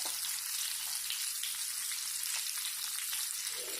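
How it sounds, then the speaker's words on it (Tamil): Fish fries on a tawa over a low flame with a continuous, soft crackle and sizzle of oil, close and even, plus a few faint pops and no talking. "ரொம்ப கம்மியான ஃப்ளேமில், அதாவது சிம்லேயே வச்சு நம்ம இதை வந்து ஃப்ரை பண்ணணும்"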